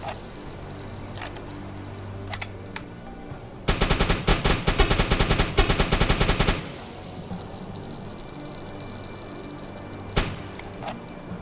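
Machine gun fired from a U-boat in a naval video game, one loud, sharp rapid burst of closely spaced shots lasting about three seconds, with a few isolated single bangs before and after over low ambient hum.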